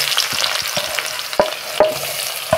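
Minced mutton sizzles loudly in hot oil in a kadhai, a dense continuous crackle broken by several sharp spatula knocks and stirring scrapes against the pan, with no voice present.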